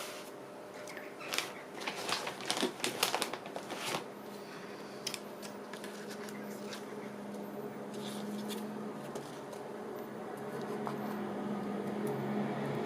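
Several quick snipping cuts from scissors trimming paper close by in the first few seconds, followed by a quiet, steady background hum.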